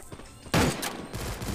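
Submachine gun fire in the Free Fire mobile battle royale game, an MP5, heard as a loud burst of rapid shots that starts abruptly after a quiet moment and keeps rattling through the rest of the clip.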